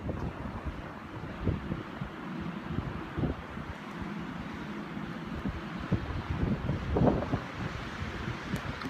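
Strong wind whipping during a blizzard at minus 25 in whiteout conditions, steady roaring rush with gusty swells and buffeting against the microphone.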